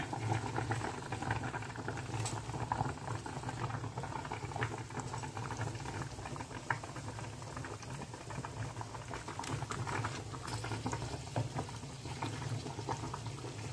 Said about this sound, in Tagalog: Ito na yung spaghetti, nagkulo-kulo na